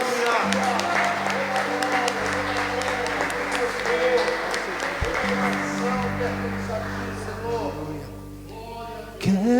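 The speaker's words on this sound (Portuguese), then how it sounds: "Aplauda forte o Senhor nosso Deus." A church congregation in Caieiras, Brazil applauding to praise God, a broad wash of clapping under sustained organ or keyboard chords and a voice, fading toward the end.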